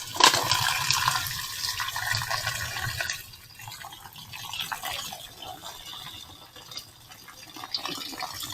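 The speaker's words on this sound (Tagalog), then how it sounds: "Lagyan natin ng tubig." Tap water pours into a pot of purple sweet potatoes, rushing loudly at first, then easing into a softer, uneven trickle and splashing as the pot fills.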